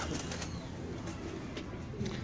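Pigeons kept for pigeon-flying give soft, low repeated coos in the background, faint beneath a steady wash of ambient noise outdoors.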